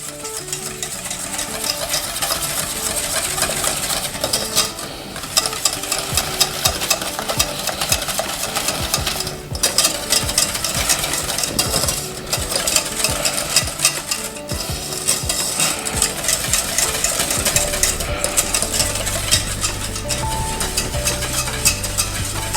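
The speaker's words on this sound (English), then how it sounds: "Keep on stirring this until you got a nice thick caramel icing." A spoon scrapes steadily through thick caramel icing in a pan on the heat, made for ube cheese mamon. The close, continuous stirring carries faint sizzling and clinks against the pan throughout, with no talking.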